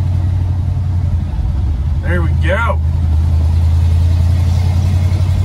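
A car engine warming up idles steadily with a deep, even rumble close by, running continuously while someone briefly speaks over it.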